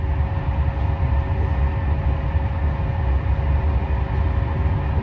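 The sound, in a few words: train interior while leaving Marseille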